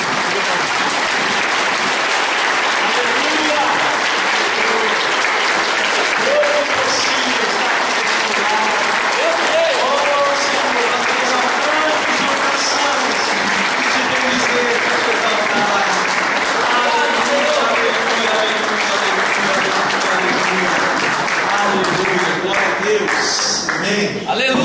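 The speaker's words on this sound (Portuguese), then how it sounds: "vamos dar uma salva de palmas para Jesus?" Congregation applauding at a church camp night service, sustained dense clapping throughout, loud and close with crowd noise and scattered voices mixed in.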